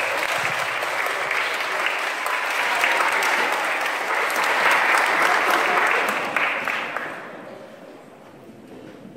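Audience applauding sixth graders at a Polish school Teachers' Day event, a loud sustained round of clapping that holds steady for about six seconds before tapering off.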